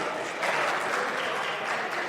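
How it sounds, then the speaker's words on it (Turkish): Steady applause fills the Turkish parliament chamber, many hands clapping densely and evenly at close range for a couple of seconds, with no voices over it. "Bu arkadaşları bir alkışlayın muhalefete alıştıkları için."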